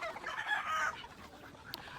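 Chickens clucking at feeding time on a backyard farm, a few soft, fairly distant clucks and murmurs over a quiet background, with a brief sharp sound near the end.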